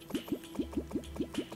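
A water duplicator in a summoner playthrough of a video game, pouring water in a quick run of regular, evenly spaced bubbly glugs, about eight in under two seconds, close and clear with no talking.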